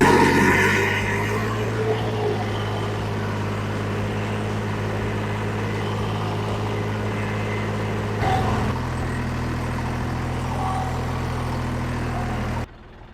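A mini-tractor pulls a Bomet plough through a field, its engine droning loudly and steadily at a low working pitch, with a brief surge in load near the end before the sound cuts off abruptly.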